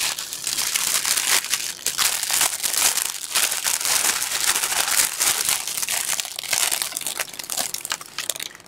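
Packaging crinkles and crunches steadily while craft items such as washi tape are unwrapped, with no voice present.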